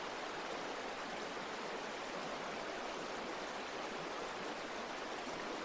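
Gentle water lapping at wooden piers along a New York waterfront at night, heard as a constant, smooth watery hiss without separate splashes, steady from start to finish.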